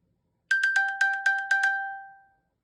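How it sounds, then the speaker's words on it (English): A bright electronic chime from an iPhone, triggered from an Apple Watch, rings in a quick series of about eight ringing pings, then fades out, clear and alone. "touch that, and then your phone will make a sound"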